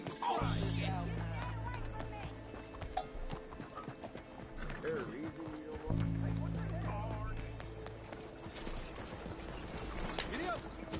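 A horse gallops in Red Dead Redemption 2: rapid, close hoof clip-clops in a driving rhythm, with a whinny and game voices speaking over the hoofbeats.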